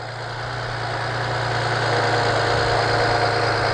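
A BMW 335i E90 engine idling steadily up close at cold start, a low constant rumble with a slight rise in level over a few seconds, no voices.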